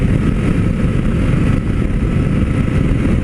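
Suzuki V-Strom 800 motorcycle riding and shifting gears with its quick shifter: a loud, close engine drone, steady and rough, with small dips and surges in level and no talk.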